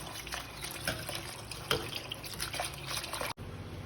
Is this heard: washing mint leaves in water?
yes